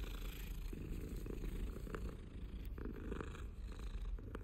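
A cat purrs steadily while being petted in the Hogwarts Legacy video game, a continuous low rumbling drone close and loud throughout.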